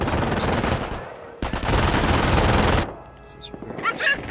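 Gunfire rattles in the Company of Heroes strategy game during a German assault: a dense burst of rapid automatic shots, then quieter battle sounds and a brief voice line.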